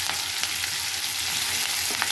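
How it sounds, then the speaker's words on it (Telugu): Curry leaves, onions and green chillies fry in hot oil in a pan, giving a steady, close crackling sizzle with small pops throughout; no one speaks. "ఈ చిటపటం అన్నప్పుడు కరివేపాకు వేసుకున్నాం"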